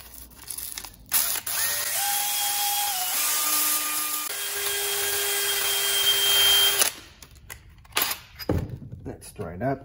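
Drill spinning on a pedal part during a 1955 oval VW Beetle restoration, a steady whine shifting pitch in steps over several seconds, with scraping and handling noises around it and some talking.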